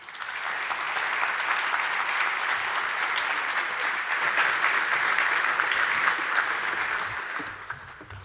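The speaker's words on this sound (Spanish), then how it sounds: "quiero que recibamos con un gran aplauso a la presidenta del Banco Central" Sustained applause from a seminar audience welcoming the Central Bank president on stage at a bank's wealth management event, a broad even roar of many hands clapping that holds steady for several seconds and tapers near the end.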